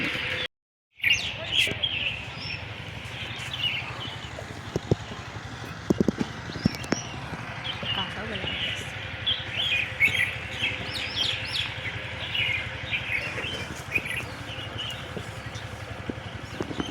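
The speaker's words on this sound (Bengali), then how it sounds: "দেখেন কতগুলান পাখি এসে মারামারি করছে দেখেন একসঙ্গে বুলবুলি পাখি আসছে এগুলান" Bulbuls chirp and squabble together in a date palm on a fine morning, their bright, busy calls scattered steadily over a constant outdoor background, with a short silent gap near the start.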